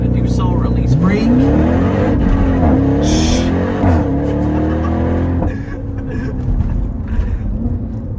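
A Jeep Trackhawk SUV of about 6,000 pounds launching under launch control at full throttle, its engine roaring loudly with rising revs and a quick gear shift, fading as it pulls away.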